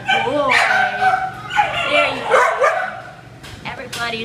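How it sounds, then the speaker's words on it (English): A heeler mix puppy, about seven months old, lets out close, high-pitched yips and barks mixed with whimpering whines in short bursts, with a person talking in between. "Everybody's barking at me today,"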